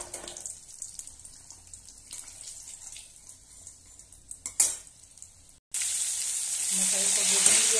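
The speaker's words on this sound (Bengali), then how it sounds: "এরপর বেগুনগুলি আমি ভেজে নিচ্ছি" Eggplant slices go into hot oil in a home kitchen after green bananas were fried, first some quiet clatter and a splash, then a sudden loud, steady sizzle that continues to the end.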